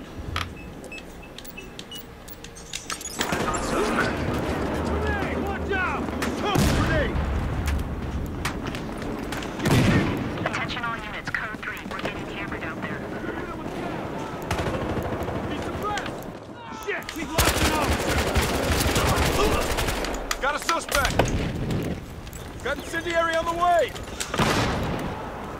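Rapid gunfire bursts from the video game Battlefield Hardline, including an SMG, crackle in repeated volleys over a long stretch, loud and close, with someone talking over parts of the shooting.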